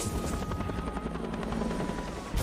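Helicopter rotor thudding steadily and loudly from the film Guardians (2017), a continuous close chopping drone that holds throughout before cutting off near the end.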